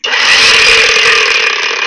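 A LUDYVI LB130 cordless angle grinder whirs up and runs steadily at high speed with a loud, continuous whine, close and alone.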